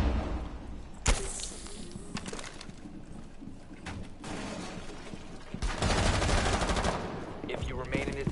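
Bursts of video game gunfire crack out, with a sharp shot early on and a heavier rapid volley later, mixed with lighter game ambience and some background sounds between the bursts.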